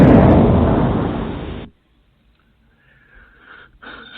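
Loud bomb explosion effect, a sudden heavy blast that decays over about a second and a half and then cuts to near silence, followed by faint scattered noises.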